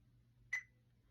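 A single short electronic beep from a Zoom H1 Essential audio recorder, clear and high, sounds once against a quiet background hum.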